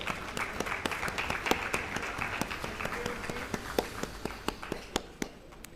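Applause from a conference audience at a summit, steady dense clapping with sharp individual claps standing out, fairly close, tapering off near the end.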